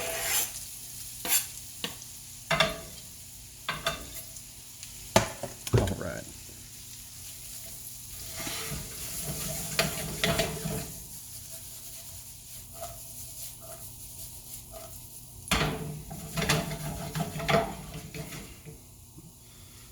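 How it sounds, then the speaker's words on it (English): Steady sizzling and crackling of butter and bacon grease in a hot skillet, with occasional stirring scrapes and a brief spoken word. "I can hear that butter and bacon grease crackling just a little bit"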